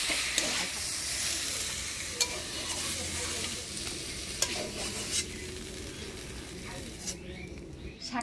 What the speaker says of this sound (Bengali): কলমি শাক পিঠালো শাক ভাজা হয়ে গেল